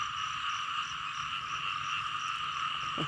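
A dense chorus of frogs croaking continuously after rainfall, loud and layered, a pulsing night-time din with no voices.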